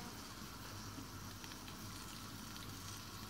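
Guanciale sizzles steadily in a pan over a very low flame with a chili pepper and olive oil, a continuous dense hiss and crackle filling the whole stretch without any talk.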